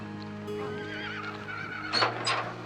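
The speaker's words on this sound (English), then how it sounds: "I heard this whinnying from a horse behind us" A horse whinnies loudly in a long, wavering neigh, followed by a second shorter, higher whinny near the end.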